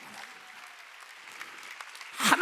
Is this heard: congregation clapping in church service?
yes